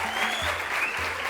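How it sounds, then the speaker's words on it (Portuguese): An audience applauds for a school director at an education event, a steady wash of clapping over low background tones, brief and fairly even throughout. "Uma salva de palmas para nossa diretora."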